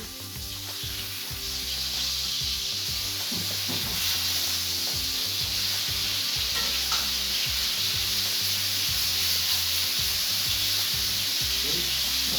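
Pork chops fry steadily in a pan with a continuous, loud sizzle and scattered crackles, heard alone without talk, destined for a dish with gnocchi and creamy mustard sauce.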